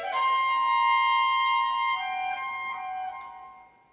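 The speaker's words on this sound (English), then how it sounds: "when Petrushka really goes mad with suffering, his theme sounds like this" Orchestra playing Stravinsky's Petrushka theme in its mad, suffering form, a sustained bright tonal phrase with shifting pitches that fades out, heard alone.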